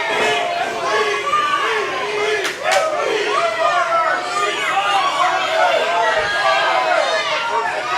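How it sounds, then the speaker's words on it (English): Wrestling crowd at a Collision Course event reacts to a hard chop with a sustained roar of cheers and wooing voices, loud and continuous throughout. "That one got a woo out of the crowd."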